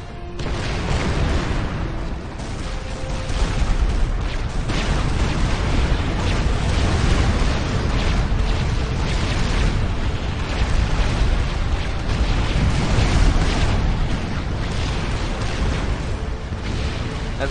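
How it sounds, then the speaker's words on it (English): Artillery shells boom and erupt continuously in the real-time strategy game Supreme Commander, a dense, loud wall of overlapping explosions rumbling for the whole stretch, alone without talk. "Uh-oh, artillery."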